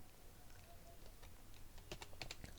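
Someone types a search on a computer keyboard, tapping quick quiet keystrokes. The taps cluster into bursts toward the end, close by over low room noise, and no one speaks.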